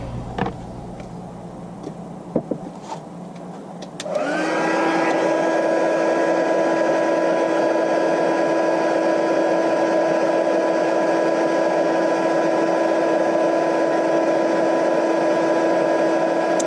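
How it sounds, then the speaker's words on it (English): After a few seconds of quiet handling noises, a heat gun switches on to melt silver embossing powder on shiny card stock. A loud, steady whirring hum then holds unchanged to the end. "I'm off with my heat gun"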